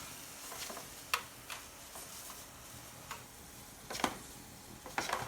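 Eggplant sautéing in a pan with sesame, garlic and ginger flavors, a faint low sizzle with scattered sharp ticks and clicks of stirring or utensil taps, quiet and close with no talking.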